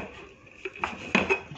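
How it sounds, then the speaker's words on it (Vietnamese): Pots and a rice cooker being set up in a home kitchen while preparing lunch, giving a few scattered metallic clinks and clatters at moderate level, close by and without talk. "bây giờ đi cắm cơm là vừa."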